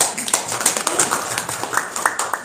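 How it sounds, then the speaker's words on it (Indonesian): Audience clapping at a health supplement seminar: a busy, slightly rhythmic patter of many hands at close range, with louder accents recurring throughout. "Tepuk tangan ya."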